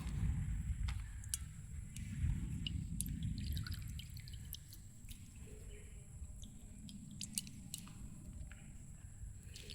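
Water drips and squishes as small fish, prawns, are squeezed by hand outdoors on a riverbank, with soft wet splatters and occasional sharper drops over a low, continuous rustle.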